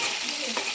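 Paneer pieces frying in a home kitchen pan give a brief, close burst of sizzling with a light stir, steady and unaccompanied.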